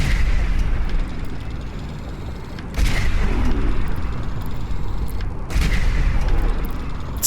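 Gunfire in the game Fallout 4, loud sharp blasts at about three and five and a half seconds over a dense roaring battle background, with no voices.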